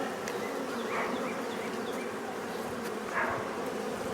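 Honey bees in an opened hive with drawn comb and nectar fill the air with a steady, dense buzzing hum, close and continuous, with individual bees drifting past.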